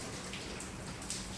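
Rain falling outside a garage during a repair on a 1973 Mach 1 Mustang, a soft, continuous patter in the background with scattered faint drips and no voices.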